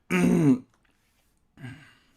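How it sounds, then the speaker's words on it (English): A person clears their throat with one harsh, voiced rasp, then after a short pause a second, softer throat-clearing grunt. "After I clear my throat"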